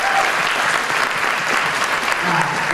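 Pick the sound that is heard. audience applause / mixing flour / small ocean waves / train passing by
audience applause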